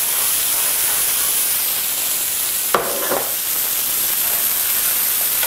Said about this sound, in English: Let it sear and move it.